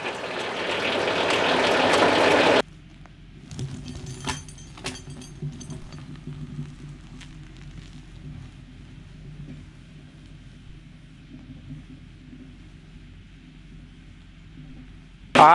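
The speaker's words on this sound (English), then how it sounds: "it starts engaging the clutch to the PTO that's spinning right here, reeling everything in." A TMG FW40T forestry skidding winch driven by a tractor PTO reels in cable, a steady low mechanical drone and rumble with faint clanks, after a loud burst of noise at the start; no talking.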